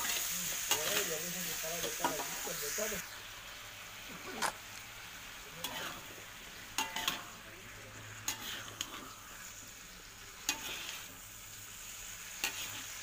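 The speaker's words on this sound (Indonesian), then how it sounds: "nah lanjut lagi saya mengaduk-aduk teman-teman diaduk-aduk terus" Tempeh and bitter gourd stir-frying in a pan with a continuous sizzle, punctuated by repeated scraping and tapping of a spatula against the pan as it is stirred, close and fairly loud.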